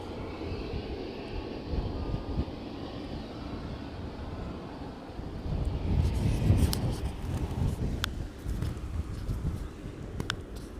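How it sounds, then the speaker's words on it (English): An evening Boeing 777 taxiing at East Midlands Airport makes a distant jet rumble that swells after the midpoint, with a few sharp clicks, and no talking. "777 making its way out to Leipzig this evening"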